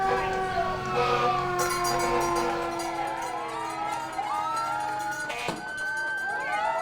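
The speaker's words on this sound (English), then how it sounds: "an escort home comprised of police and fire vehicles" Police and fire vehicle sirens wail while escorting a championship team home, with several overlapping rising and falling tones close by, truck engines rumbling and crowd noise underneath.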